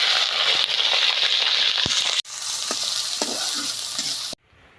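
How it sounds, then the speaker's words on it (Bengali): Onions frying in hot oil in a wok, a loud, dense sizzle with stirring scrapes, continuing steadily before briefly dropping and then quieting near the end. "এখন তেলের মধ্যে পেঁয়াজ দিয়ে দিলাম"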